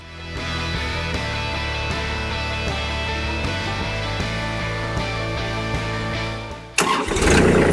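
A Kubota tractor engine runs at a steady idle while its front loader lowers with the bucket angled forward. The even, droning hum continues, then shifts into a rougher, noisier burst near the end.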